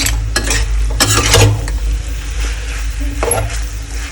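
Cabbage stir-fried with spices and roasted cumin powder in a pan: loud, close sizzling with sharp spatula scrapes and knocks against the pan, no talking.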